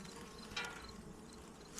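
Agitated honeybees buzz steadily during a hive inspection, a faint continuous drone with a brief louder swell partway through.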